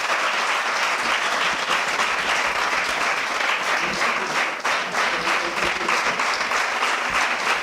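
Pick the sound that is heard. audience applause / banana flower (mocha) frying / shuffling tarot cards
audience applause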